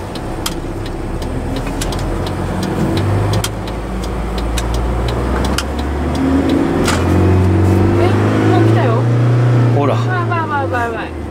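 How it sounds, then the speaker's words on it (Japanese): A manual car-carrier truck's engine revs up in first gear toward 4000 rpm, a loud rising drone that climbs steadily and then falls off, heard from inside the cab with people talking over it. "さあ、何キロで4000回転まで回っちゃいますでしょうかね。"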